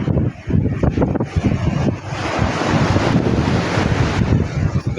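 Large waves surging onto the shore in strong wind, a loud sustained wash of surf with heavy gusts rumbling across the microphone and no talking.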